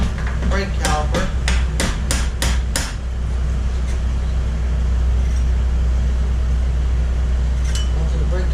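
Hammer tapping an axle on a 2006 Victory Hammer motorcycle: about eight quick, light metallic taps in a steady run close by, over a constant low hum, then a lone faint tap later.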